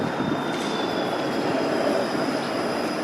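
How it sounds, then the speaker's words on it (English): A busy streetcar on Bathurst Street in downtown Toronto at rush hour rolls past close by, a steady rumble of wheels on rails with a thin sustained squeal over the top. "Look how busy that streetcar is"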